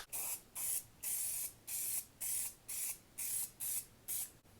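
Engine clear coat sprayed from a can onto car headlights in about nine short hissing bursts, each with a brief gap before the next, close and fairly quiet.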